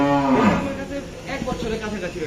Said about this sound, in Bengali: কানতেছে কেন গরুটা